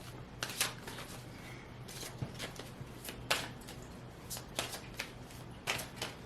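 Oracle cards shuffled close by, a series of soft riffling bursts at an uneven rhythm against a faint background hum.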